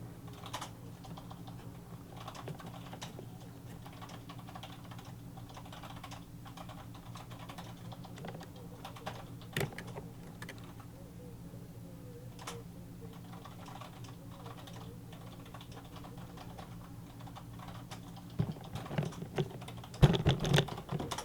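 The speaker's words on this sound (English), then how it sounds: "You keep typing. You keep typing." Steady, rapid clicking of keys on a computer keyboard, close and fairly quiet, continuing throughout with a few louder taps near the end.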